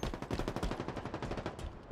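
Halo Infinite gunfire rattles in a steady, rapid automatic burst of close shots lasting about two seconds, with no voices over it.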